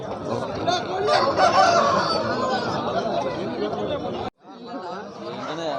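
Native roosters and other fowl call at the Kavundapadi rooster market, a busy country poultry sale, with steady crowd chatter and nearby voices talking throughout, then a brief drop before the noise resumes.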